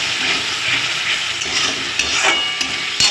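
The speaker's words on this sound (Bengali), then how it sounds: "এখানে দেখো মশলাটা প্রায় কষানো হয়ে গেছে" Spice paste of salt, turmeric and chili powder sizzles steadily in a pan for a potato, pointed gourd and paneer curry. A continuous close frying hiss carries the odd light scrape of stirring, with no voices.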